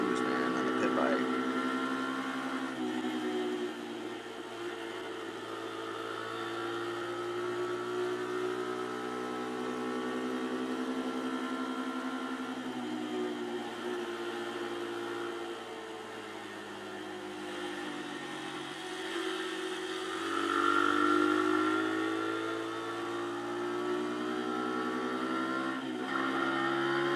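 A pit bike engine hums steadily through neighborhood streets in mild December weather, its tone rising and easing slightly as the rider cruises along for a long stretch.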